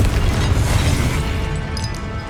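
A Confringo blasting spell in Hogwarts Legacy erupts in a loud, sustained booming explosion that rumbles heavily and fades slightly toward the end.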